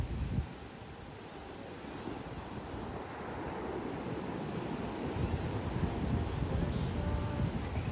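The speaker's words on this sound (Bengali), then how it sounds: "ঢেউয়ের ধাক্কা আর বাতাসের খেলার শব্দে মনে হচ্ছিল এই মুহূর্তটাই চিরস্থায়ী" Sea waves and wind wash across Patuartek beach at Cox's Bazar at night as a soft, continuous roar of surf and gusts that builds slightly over the clip and stays fairly distant and faint.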